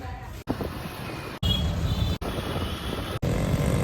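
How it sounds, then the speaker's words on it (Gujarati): A motorcycle engine rumbles steadily nearby, heard in several chopped segments with abrupt cuts between them. "પછી આપણી બાઈક."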